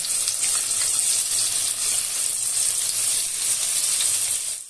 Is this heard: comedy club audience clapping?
no